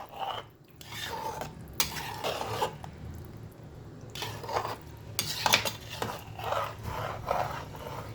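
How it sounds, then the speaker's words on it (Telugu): Ladyfinger (okra) curry being stirred in a pan, with spoon scrapes and clinks against the metal in irregular bursts, moderately close with light kitchen background noise and no talking. "ఇప్పుడు బాగా కలపండి."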